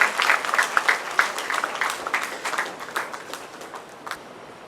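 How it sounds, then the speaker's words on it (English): A crowd applauds with a burst of clapping that starts strong and gradually thins out, fading over several seconds. "Give them a big round of applause."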